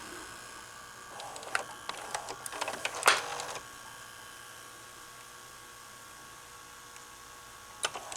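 A 2004 Panasonic PV-V4524S VCR runs its tape transport at speed, a steady motorized whir with clicks and mechanical clunks as the mode changes, close and alone.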